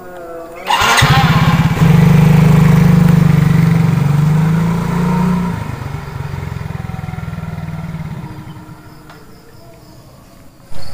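A motorcycle engine fires up with a sudden burst, settles into a loud, steady idle with a throaty rumble, then gradually quietens and fades before a short final blip.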